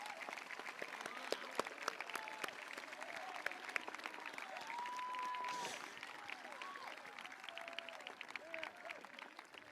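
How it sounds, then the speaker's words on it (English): Applause at a school promotion ceremony for faculty, steady mid-level clapping from a gathered crowd with scattered cheers and voices mixed in throughout. "Let us acknowledge these amazing people with a round of applause."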